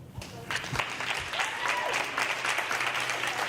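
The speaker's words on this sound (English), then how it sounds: "So I want to please introduce and please give a very big round of applause to Donnie Anderson." An audience at a cannabis emerging-market business event applauds, a dense steady wash of many hands clapping that swells quickly and holds at full strength, with no speech over it.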